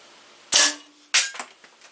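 An air rifle shoots a JSB pellet through a chronograph, giving a loud, close, sharp crack, a second crisp snap about half a second later, then a few softer clicks fading out.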